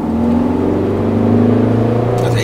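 A Ford Focus ST with an aftermarket exhaust system idles steadily, a loud close droning engine hum with a smooth rumbling note holding level throughout.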